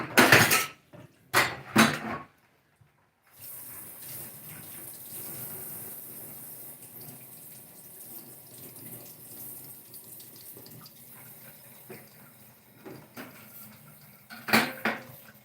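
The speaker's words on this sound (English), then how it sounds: "I'm just going to add some hot water." Hot water runs from a kitchen tap into a sink during dishwashing, a steady splashing stream after a few clinks of dishes and cutlery at the start, with more clattering near the end.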